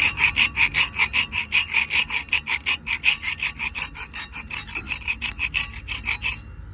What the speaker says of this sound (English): We go scraper.